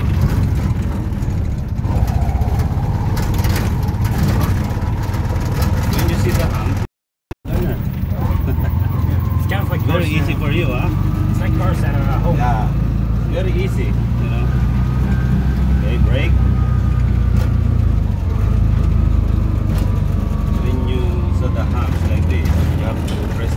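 A tuk-tuk engine runs steadily through a driving lesson, a low continuous drone with slight throttle swells and a brief dropout, while people talk over it.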